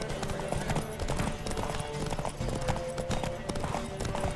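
A horse in The Witcher 3 gallops with hooves clip-clopping in a fast, steady rhythm, close and continuous, with faint music and ambient sound layered beneath.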